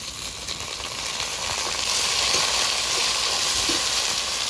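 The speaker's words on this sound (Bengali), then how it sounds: "পেঁয়াজটা হালকা ভাজা হয়ে গেছে এবার ক্যাপসিকামটা টমেটোটা দিয়ে দেবো" Capsicum and tomato drop into a pan of lightly fried onions, setting off a loud, steady, close sizzle and hiss of frying oil that continues unbroken with no talking.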